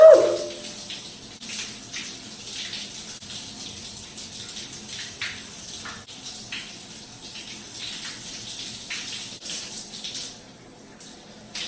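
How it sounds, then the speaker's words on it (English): Running water pours steadily over wet hair during a water-only hair wash, with a brief louder splash at the start and an even, continuous gush and patter for the rest. "Feels so good to have water on my hair."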